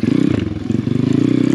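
A pit bike engine runs steadily while riding along a snowy enduro trail, its fast rhythmic pulsing close and loud throughout with faint clattering from the bike.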